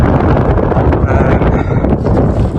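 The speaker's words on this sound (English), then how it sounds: "it's pretty windy, so I need to shout on this one" Strong, steady wind on a mountain ridge roars and buffets the microphone throughout, a continuous loud rumble with gusty texture and no voices.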